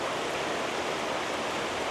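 Steady rain falls outdoors in the Philippines as a dense, even hiss of drops, constant and fairly loud throughout with no voices.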